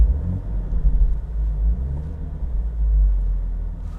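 A car engine runs with a deep, steady rumble during a heel-and-toe downshift, swelling slightly in loudness near the end, close and without talk.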